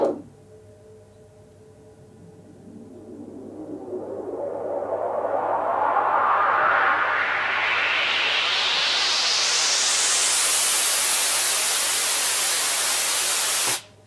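A broad wash of white noise, widened with Logic's chorus effect, sweeps steadily upward in pitch, swelling louder and brighter before cutting off abruptly at the end.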